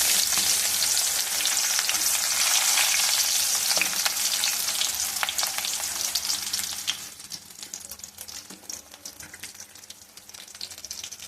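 Chopped onion frying in a pan for chicken curry makes a loud, dense sizzle with stirring scrapes, which eases somewhat partway through while the crackle goes on, and no voices.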